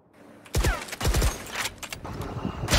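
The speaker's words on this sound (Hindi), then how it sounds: "स्नाइपर चल रही है, दमादम।" Rapid sniper rifle gunfire in the Valorant first-person shooter, several sharp loud shots in quick bursts with brief gaps, close and dominant with no talking.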